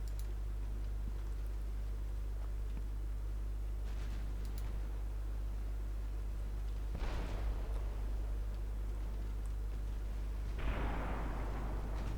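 Warships in a naval combat video game launch torpedoes, producing two distinct whooshing bursts several seconds apart over a steady low engine rumble, moderately loud and fairly near.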